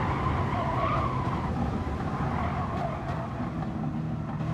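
A race car slides through a corner in a sim racing qualifying session, engine droning under a continuous scrubbing tire squeal, heard loud and close with no break.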